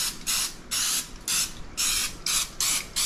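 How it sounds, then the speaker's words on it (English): Olive oil sprayed onto a baking dish in six short, regular bursts of hissing spray, each about a third of a second long with brief pauses between, close and fairly loud. "I'm going to spray our baking dish with a little olive oil"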